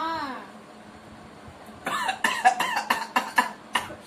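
A burst of repeated coughs after eating sour tamarind, about six or seven harsh hacks in quick succession, close and loud after a moment of quiet.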